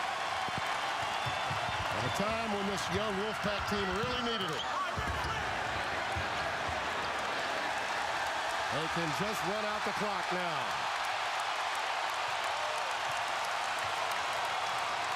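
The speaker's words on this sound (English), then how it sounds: "Listen to this crowd." At an NC State men's basketball home game against Duke, a packed arena crowd keeps up a loud, unbroken roar under a commentator's steady talk.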